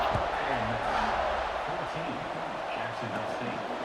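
Stadium crowd noise from the EA Sports College Football 26 video game, a broad continuous roar at moderate level lying under a commentator's voice throughout.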